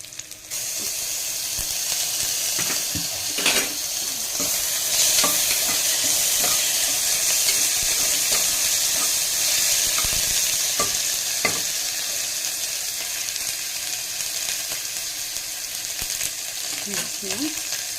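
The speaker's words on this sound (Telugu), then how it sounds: "బాగా వేగుతున్నాయి." Ingredients for a pressure cooker chicken biryani frying in oil in a pan; a steady, dense sizzling hiss runs throughout, punctuated by occasional clicks and scrapes of stirring, close and fairly loud.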